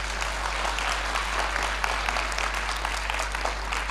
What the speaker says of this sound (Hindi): ताली बनती है इस बात पर